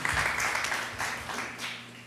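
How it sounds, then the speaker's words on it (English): Church congregation giving a clap of praise during a Sunday message, a dense wash of many hands applauding at once, steady and moderately loud throughout with no distinct individual claps and no talking. "Let's give the Lord a clap of praise."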